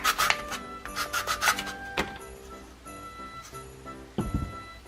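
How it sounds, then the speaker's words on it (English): Wood is sanded by hand in short rasping strokes, a quick run of rubs, then scattered scrapes and a knock nearby. "So I'm just going to give the bottom a little sanding"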